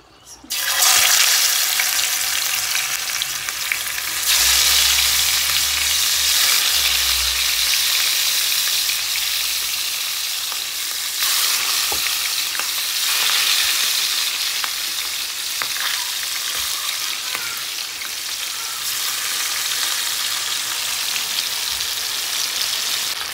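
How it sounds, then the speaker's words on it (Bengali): Fish coated with turmeric and salt frying in hot oil makes a loud, continuous, close-up sizzle and crackle that holds steady for over twenty seconds, with no talking. "ভেজে নেব।"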